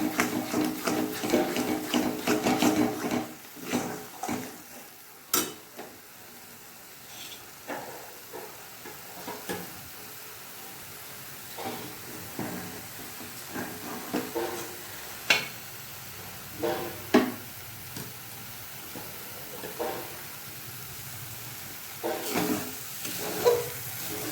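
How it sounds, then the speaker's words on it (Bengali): Spice masala sizzles faintly in a pan while being stirred, with scattered scraping clicks from the utensil over a steady soft frying hiss, louder at the start and quieter later. "মশলাটা একটু ভাজা হয়ে গেছে"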